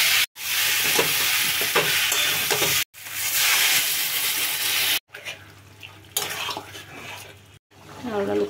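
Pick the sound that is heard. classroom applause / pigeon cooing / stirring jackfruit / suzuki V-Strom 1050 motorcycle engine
stirring jackfruit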